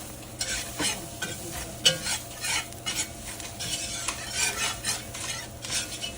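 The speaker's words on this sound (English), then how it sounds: "This is the Trinity, basically. I'm gonna just whisk it in." A whisk scrapes and stirs the Trinity aromatics into a sizzling roux for a seafood stew, with steady frying crackle and repeated metallic strokes against the pot, close and alone.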